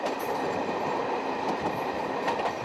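A train rolls along a railway track through a forest caution zone at reduced speed, giving a continuous rumbling clatter with faint metallic clicks, steady and fairly close.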